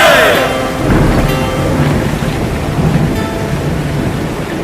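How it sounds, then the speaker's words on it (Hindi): Heavy rain begins with a rumble of thunder, a dense, loud wash of rainfall that starts with a deep roll and settles into a continuous downpour. "लीजिए महाराज, वर्षा आरंभ हो गई।"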